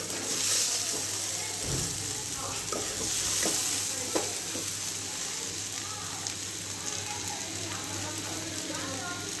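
Maggi noodles stir-fried in a pan give a steady close sizzle with scraping stir strokes throughout, while people talk over the cooking.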